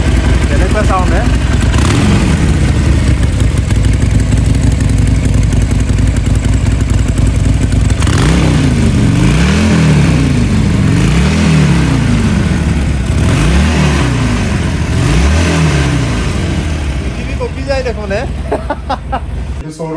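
Three motorcycles, a Hero Honda Splendor, a Hero Honda Ambition and a Bajaj Pulsar, idle loudly nearby and rev up and down in several repeated surges, with a voice briefly heard toward the end.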